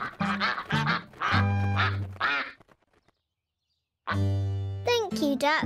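Cartoon pond ducks quack in loud, musical bursts, then fall silent for about a second before another long, tuneful run of quacks resumes, all near and clear.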